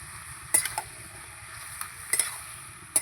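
Katla fish head stir-fries with cabbage in a pan, a soft continuous sizzle under occasional sharp clinks and scrapes of the spatula, nearby and fairly quiet.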